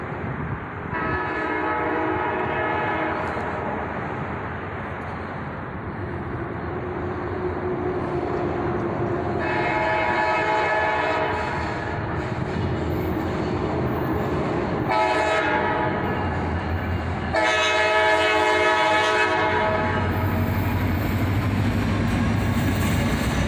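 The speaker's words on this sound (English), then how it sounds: "Double SD43 square caps lead this train northbound" CSX freight train led by two SD43 locomotives heading northbound, horn blasting in several long blares while the engines rumble past nearby, followed by steady rolling wheel noise of the cars.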